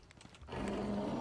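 A bear in the survival video game Icarus lets out a single deep, growling roar that starts abruptly after a brief quiet moment and holds loud and close to the end.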